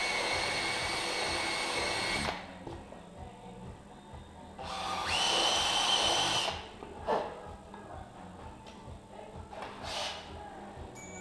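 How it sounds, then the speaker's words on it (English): A standard drill bit whirs in bursts as it widens a hole in a tubeless tire, a high-pitched spin-up alternating with quieter pauses at close range. "I'll just try to use first this standard drill bit or drill."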